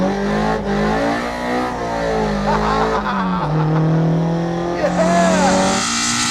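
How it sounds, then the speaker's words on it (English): Toyota AE86 Trueno, light and rear-wheel drive, drifting on a wet road, its loud engine revving and wavering up and down close by, with tire squeal and a voice over the noise. "this car is very rear-wheel drive, which means I can do this"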